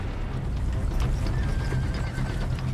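Horses neigh over a dense, steady bed of hoof clatter, as if several animals are on the move together through rugged country; the texture stays loud and busy throughout with a thin whinny line rising midway.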